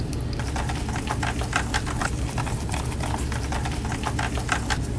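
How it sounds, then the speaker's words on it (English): Screws are driven back into the case of a CUKUSA P950VR laptop after an upgrade, with a rapid, steady run of close, light mechanical clicking and whirring. There is no speech. "I'm going to put our screws back in."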